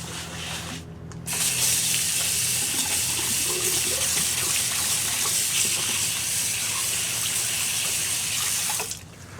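Water runs steadily from an outdoor sink tap during rinsing, a dense close gushing spray that starts abruptly, holds for several seconds and cuts off near the end.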